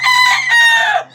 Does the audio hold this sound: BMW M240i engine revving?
no